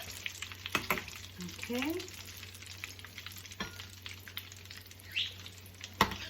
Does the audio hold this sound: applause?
no